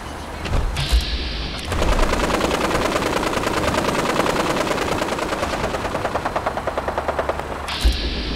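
Sustained automatic gunfire from Minutemen rattles in the game Fallout 4, a dense rapid burst of shots lasting several seconds between short quieter gaps, loud and continuous with no talking.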